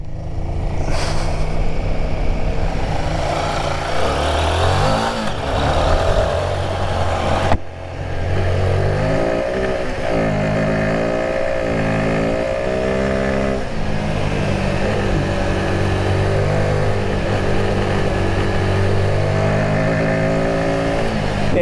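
A 2024 Royal Enfield Himalayan 450 motorcycle engine drones steadily as it is ridden hard, with pitch rising and falling through revs around a corner and a brief dip mid-way, loud and close amid constant wind rush.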